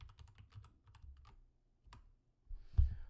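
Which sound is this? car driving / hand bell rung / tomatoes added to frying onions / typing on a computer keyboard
typing on a computer keyboard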